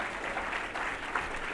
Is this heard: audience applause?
yes